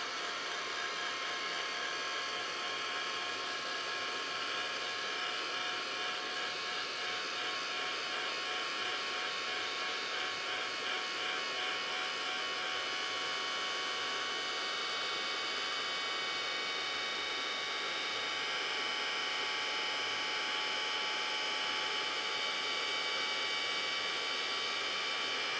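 Heat embossing tool blowing hot air to melt embossing powder on tiles, a constant loud hissing whir that runs unbroken throughout, close to the microphone.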